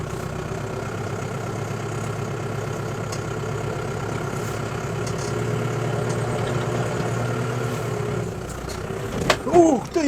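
A SCOUT TB-904C tractor engine idles steadily with a low rumbling drone, then revs and shifts near the end, joined by brief squealing.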